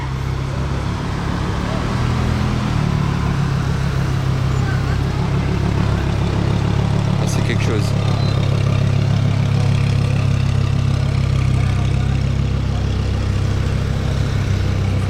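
An 822 hp Audi R8 MTM GT Street idles on a road, giving a steady, continuous low rumble throughout while people talk over it.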